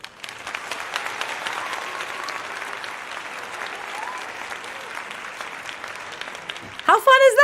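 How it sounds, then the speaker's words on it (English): A canned applause sound effect from a live-streaming setup, a steady, full crowd clapping that runs for several seconds, then the speaker's voice cuts in at the end. "I can give you the applause."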